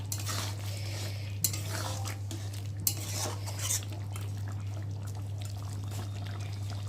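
Meat masala and sugar being stirred in a pan, a spoon scraping and clinking against the metal in a steady rhythm, with a couple of sharper knocks, over a constant low hum.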